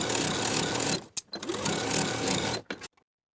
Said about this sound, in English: Sew the pinned curve of the 1/2 inch seam allowance.